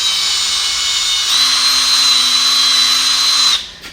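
A rotary sanding wheel works over a Toyota Tundra headlight, giving a close, steady high-pitched whine with a grinding hiss that holds for about three and a half seconds before cutting off, with no voices.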